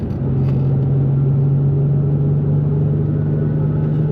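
A 2004 Nissan 350Z's naturally aspirated V6 hums steadily from inside the cabin while driving, a constant low droning engine note with road rumble, no revving.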